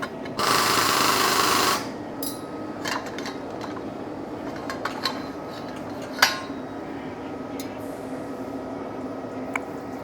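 A steel crossmember for a 1951 Chevy is bent in a workshop: a loud, steady mechanical burst at the start, then scattered metallic clanks and ticks over a constant low shop hum.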